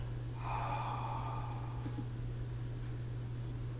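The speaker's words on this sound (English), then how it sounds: "Gently breathing out." A single long, gentle exhale through the nose during a chi kung breathing exercise, soft and airy and close, lasting about a second over a low steady hum.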